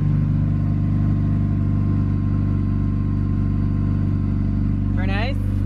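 A turbocharged Honda D16Z6 engine tuned with Hondata idles steadily and running rich, a loud, constant low drone with a faint whistle rising briefly near the end.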